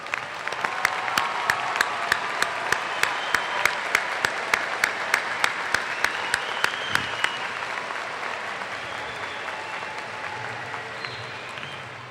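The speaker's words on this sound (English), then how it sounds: "give your parents a round of applause" A large audience applauds the parents of the Ronald Reagan High School class of 2006 at a graduation ceremony. The clapping is steady and sustained for several seconds with some sharper individual claps on top, then it fades gradually.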